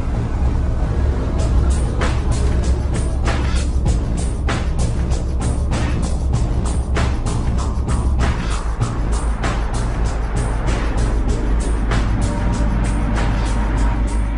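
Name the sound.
refrigerated Volvo lorry driving into a tunnel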